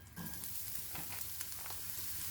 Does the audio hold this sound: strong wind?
no